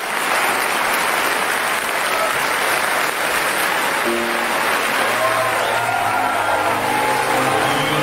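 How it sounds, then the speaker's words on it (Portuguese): A packed theater audience gives a standing ovation at the end of a play, with dense, continuous applause filling the space at a steady loud level for several seconds. "que está lotada, aplaude de pé."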